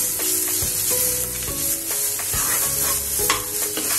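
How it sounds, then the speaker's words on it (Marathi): Onion sautéing in a pan with coriander-cumin powder, hing and turmeric for masala karela bhaji: a steady close sizzle with repeated scraping stirs of the spoon, and no talk. "धन्या जिऱ्याची पूड, हिंग, हळद, मसाला आपण 5 मिनिटांनी घालू। हे जरा चांगलं परतून घेऊया।"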